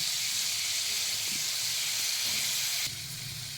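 Fish pieces coated in salt and turmeric fry in hot oil, a steady, even sizzle and hiss close by that drops slightly in level near the end, with no talking.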